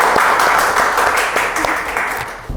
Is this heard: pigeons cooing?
no